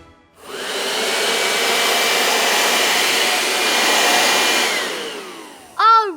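A voice imitates a vacuum cleaner with a loud, sustained whooshing drone held for about five seconds, then a short burst of vocal sound at the end.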